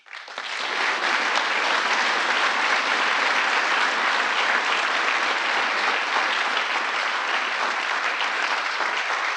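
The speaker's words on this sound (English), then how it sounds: "I want you to give one round of applause again for today's recipients of the Presidential Citizens Medal" Sustained applause from a large crowd honoring Presidential Citizens Medal recipients at a speech marking the anniversary of the January 6 riot, rising quickly to a steady loud roar that continues alone without talk.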